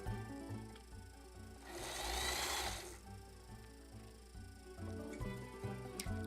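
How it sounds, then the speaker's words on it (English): A sewing machine stitches across the shoulder seam of a folded felt doll bodice, a steady quiet rhythmic chatter heard close up and alone. "Fold the felt bodice like this and sew across the shoulder seam."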